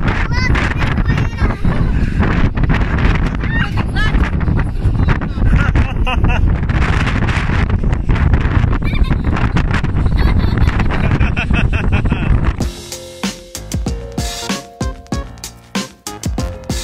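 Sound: wind

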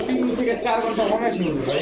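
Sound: China Khaki pigeons cooing

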